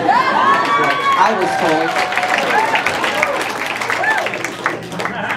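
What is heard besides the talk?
comedy club audience clapping and cheering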